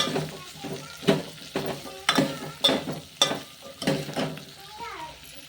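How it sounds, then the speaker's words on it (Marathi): Cut okra stirred in a hot pan, repeated scraping strokes of a spoon against the metal in a steady rhythm over a soft sizzle, with voices in the background. "आता टाकायची भेंडी कट केलेली भेंडीला फिरून घ्यायचं"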